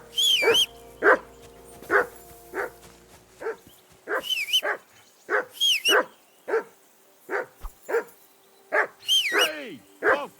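A dog in Kingdom Come Deliverance 2 barks repeatedly in a steady series of sharp, close barks with short whimpering yips mixed in, spaced roughly half a second to a second apart.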